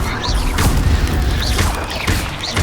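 Incendio fire spells in the game Hogwarts Legacy go off as a burst of loud, deep booms and crackling impacts, several hitting in quick succession at close range.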